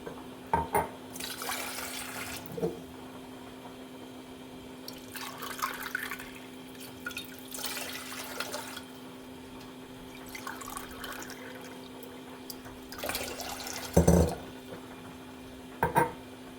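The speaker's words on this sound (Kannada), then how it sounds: "4 ಗ್ಲಾಸ್ ನೀರು ಹಾಕ್ಕೊಳ್ಳಿ." Water is poured from a glass into a pot in several separate bursts of gurgling flow with quiet gaps and a few clinks between, close and without talk.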